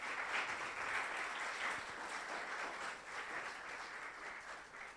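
A church congregation applauds in praise during a Spanish-language service, an even, sustained wash of many hands clapping, fairly distant and faint, with no talking over it.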